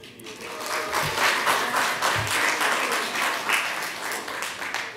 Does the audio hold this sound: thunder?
no